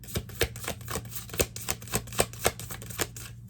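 Close, quiet tapping and riffling as a slightly sticky deck of tarot cards is shuffled by hand, about a dozen soft irregular clicks over a faint steady hum.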